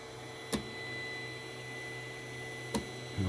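3D printer printing PETG with a steady low motor hum, broken by two sharp clicks and a brief knock at the end, heard close and fairly quiet.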